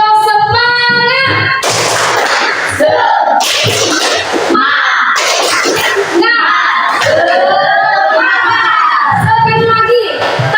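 A classroom of students performs the tepuk semangat clapping chant, loud, close voices chanting in unison broken by bursts of rhythmic group clapping.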